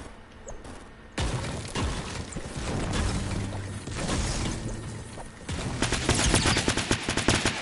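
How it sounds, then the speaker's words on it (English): Video game gunfire, rapid bursts of automatic shots and crackling impacts in rough clusters, loud and close, with a dense rattling flurry near the end. "We're shooting."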